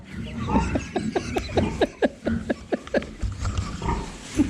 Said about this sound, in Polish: Lubisz świnie Marcin?